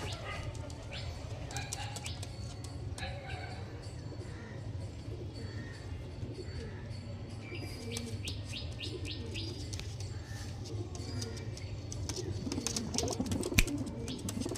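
Pigeons kept in a loft coo and chirp intermittently over a steady low background hum, with sharp clicks and scuffles scattered throughout; no clear talk.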